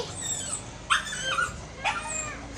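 A trapped dog whimpers and yelps in two or three short, high, strained cries close by, over a quiet rural background at night.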